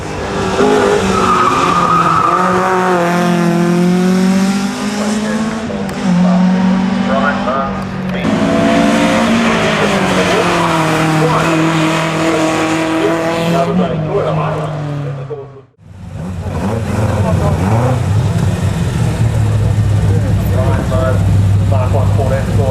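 A Mark 1 Ford Escort race car in the 1600 to 2 litre class at a sprint event, its engine note rising and falling loudly through gear changes with tyre noise, under continuous commentary.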